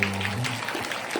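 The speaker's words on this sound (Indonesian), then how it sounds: "Tepuk tangan buat kita semua." Students applauding at a school gathering, a brief, dense wash of clapping heard under a fading voice.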